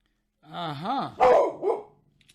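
A pet dog gives a short whining, rising bark followed by a quick sharper woof and a smaller grumble, close by and alone in an indoor setting.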